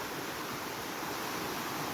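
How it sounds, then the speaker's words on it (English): A small forest creek flows in a steady, soft, even wash of running water, faint and continuous, with no voices over it. "this is a nice little spot by our little creek here"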